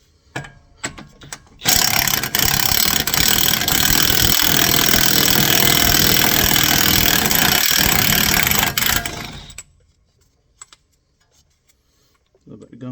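A socket wrench ratcheting on the lower ball joint of a 2015 Chevy Silverado 1500, a loud fast continuous clicking run lasting several seconds, bracketed by scattered clanks and brief handling noises.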